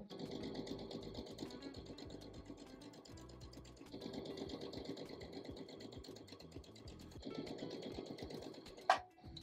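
A domestic sewing machine stitches the back seam of a men's vest, its motor whirring in steady runs with short pauses, close and fairly quiet, ending in a brief sharp click.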